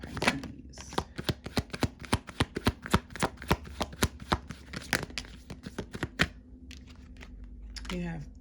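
Tarot cards are shuffled in a long run of crisp riffling slaps at a quick, steady rhythm. They sound close and moderately loud, then taper off as a faint voice comes in near the end.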